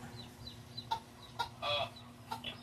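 Chickens cluck in short, scattered bursts at moderate distance, with a faint steady hum underneath and no talking.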